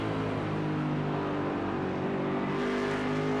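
A Mercedes GT3 race car in a sim racing game at Mosport drones loudly and steadily at near-constant revs, with a dense engine tone that holds close and continuous and shifts only slightly late on.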